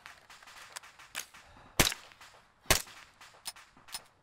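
Gunfire in the video game ArmA 3: sharp, fairly faint single shots spaced irregularly, with two louder cracks standing out among smaller pops, no talking.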